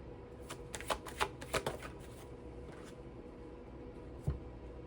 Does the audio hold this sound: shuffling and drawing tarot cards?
yes